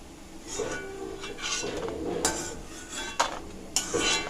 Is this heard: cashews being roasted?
yes